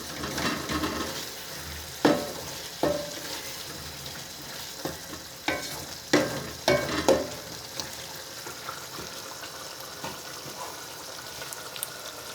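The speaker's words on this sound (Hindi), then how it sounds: "आलू और चिकन हमारा अच्छी तरह भून चुका है। अब इसमें पालक ऐड करते हैं।" Boiled spinach added to fried potatoes and chicken in a pan gives a low continuous sizzle, broken by several sharp stirring scrapes and clacks of a utensil against the pot.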